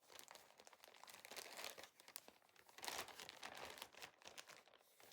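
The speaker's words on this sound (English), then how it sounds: "Sorry for all the crinkling." Plastic packaging crinkles and crackles up close while knitting projects are handled, a steady run of sharp rustling bursts with brief pauses, fairly quiet and with no talk.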